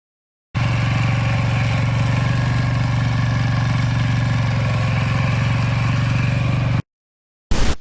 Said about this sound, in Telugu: ఈ చెట్లు క్రింద నుండి వంగి భూమి దున్నడానికి ఈ వీడర్ బాగా ఉపయోగపడుతుంది.